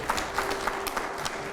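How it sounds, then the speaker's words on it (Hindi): Audience applause at a political talk show, a steady wash of crowd clapping with a faint background hum, moderately loud and continuous without speech. "पहले जोरदार तालियां हो जाए"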